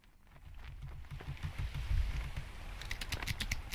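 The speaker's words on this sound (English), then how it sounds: "I have to type." Computer keyboard typing during play of a pirate-themed game, a quick run of close clicking keystrokes over a low rumbling background, ending in sharper distinct taps.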